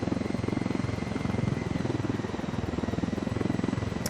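Heavy gunship helicopter in Ghost Recon Wildlands, its rotor thumping in a fast, steady pulse with a dense engine whine, loud and close throughout.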